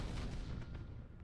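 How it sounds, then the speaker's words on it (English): Macro cannons and lance fire from a warship in Battlefleet Gothic Armada, a dense, heavy rumbling barrage of booms lasting about a second, with no talk. "Maybe I'll just let the guns do the work."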